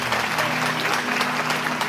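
An audience at a Sufi devotional gathering claps for the murshid, a continuous, even burst of many hands over a faint sustained musical drone, fairly close and steady.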